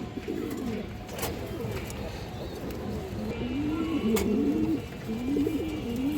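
Sapchila breed pigeons, an old local breed, coo continuously in a loft, with overlapping rolling calls from several birds close by over a steady background hum.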